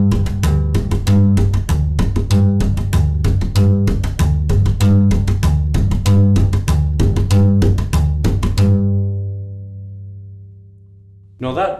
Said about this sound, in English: what you'd be doing in between the two separate notes is hitting the fingerboard twice